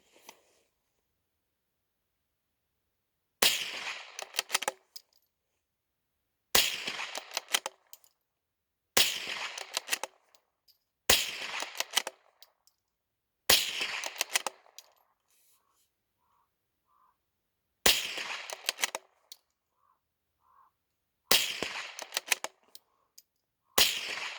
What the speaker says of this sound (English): I'm not sure if you heard that ricochet